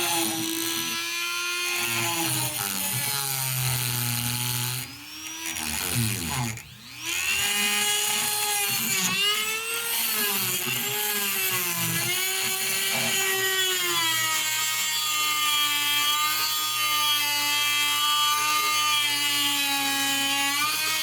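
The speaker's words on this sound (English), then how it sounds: "I got my Dremel out here with the sandstone wheel" A Dremel rotary tool fitted with a sandstone grinding wheel works a pinball machine part, giving a loud, steady high-pitched whine for about twenty seconds with small pitch dips and one brief interruption as it bites into the metal.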